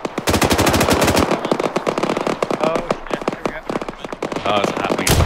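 Rapid machine gun fire in the ARMA 3 military game, loud sharp bursts of shots in quick succession, with brief pauses and some quieter echoing shots between volleys.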